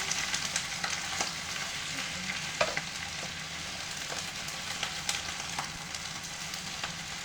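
Kale and mushrooms stir-frying in a pan, a continuous close sizzle with scattered clicks and scrapes from stirring, steady and moderately quiet, no voices.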